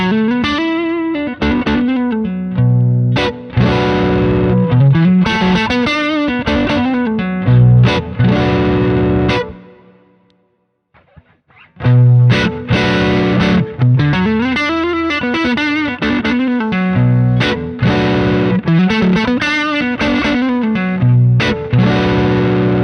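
Electric guitar played through a Klon-style overdrive pedal built as the zero-volt modular Klonduit gives a loud, driven, chorded riff with sustained notes. It cuts to near silence for about two seconds midway, then resumes.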